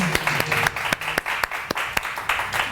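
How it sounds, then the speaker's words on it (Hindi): An audience on a Pakistani morning TV show applauds loudly and steadily, a dense wash of clapping punctuated by sharp individual claps. "जोरदार तालियां बिल्किस आपा के लिए।"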